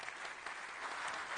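Audience applause at a food sovereignty and resilience conference closing ceremony in Dakar, a dense, even wash of clapping heard from a distance that holds steady throughout the short stretch.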